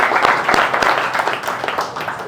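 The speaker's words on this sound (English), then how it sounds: "Give her a round of applause." Round of applause for a participant at a real estate sales training session, a brief, loud burst of clapping from a small group, close by and dense for a couple of seconds before thinning out.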